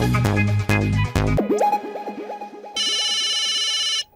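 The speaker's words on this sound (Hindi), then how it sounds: "पोपट अंकल का फोन" A phone ringtone sounds for an incoming call on a TV comedy set. Short tonal chimes give way to a warbling melodic ring and then a steady bright electronic tone that cuts off abruptly.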